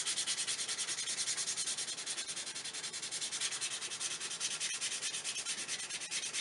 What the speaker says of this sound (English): Sand it some more.